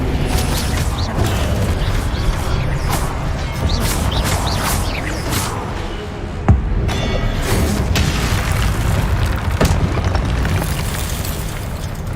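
Incendio fire spell cast in Hogwarts Legacy, a loud continuous roar of booming, crackling blasts with sharp impacts, dense and close throughout.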